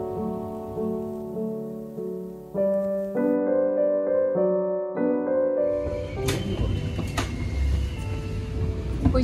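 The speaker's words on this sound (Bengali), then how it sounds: "অবশেষে আমরা ট্রেন থেকে নামলাম, আর এটা হচ্ছে ইটালির মিলান স্টেশন।" Inside a train pulling into Milan station, Italy, on a rainy day, a motor whines in stepped tones as the train slows. Rumbling, clattering and knocks follow as it comes to a stop.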